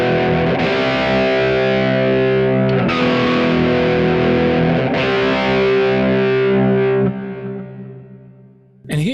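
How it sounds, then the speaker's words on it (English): Distorted electric guitar through a Kemper Profiler with a flanger placed before the amp, sustained chords with a sweeping, swirling tone, loud and continuous, then fading near the end. "Flanger in front of the amp."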